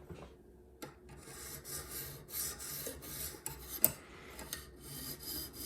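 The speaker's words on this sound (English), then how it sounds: "The sharpening system that I'm using is the Lansky guided system." Knife blade drawn repeatedly across an aluminum oxide stone on a Lansky deluxe five-stone guided sharpening system, giving steady close rasping strokes with small clicks between passes.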